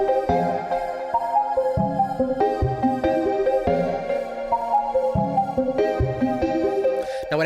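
Keys, a sample and a synth layered together in a hard trap beat, with bouncy chord stabs and shifting melodic phrases repeating in a steady loop, fairly loud with no talking.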